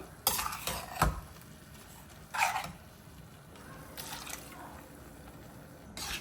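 Ground coconut paste is poured into a pot of kuzhambu and stirred, with a few close metallic clinks and scrapes of a spoon against the vessel and soft wet sloshing between them.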